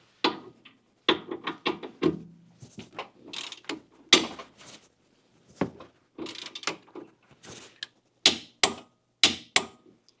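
An electric impact gun torques down a shock bolt during rear shock replacement on a Honda Civic, giving bursts of rapid mechanical rattling and clicking in short, uneven runs with brief pauses, close and fairly loud.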